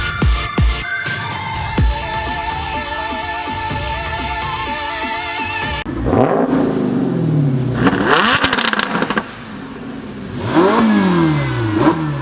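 Race car engines, among them a Lamborghini Huracan, warm up at a track, with loud revs, roaring accelerations and idle clatter rising and falling close by, several bursts overlapping without speech.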